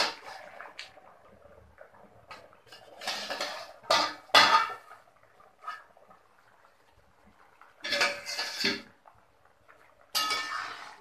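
A lid comes off a pot of simmering singi fish cumin curry. Several separate metallic clatters and clinks of the lid and utensils ring out close by, with quiet pauses between them.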